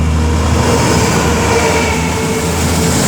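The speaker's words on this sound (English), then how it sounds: "Here we have passing by a DB Cargo UK Class 66. 66044." A DB Cargo UK Class 66 diesel freight locomotive, number 66044, passes at Milton Keynes Central on the West Coast Main Line with a loud, steady roar and rumble of engine and wagons, close by and without pause.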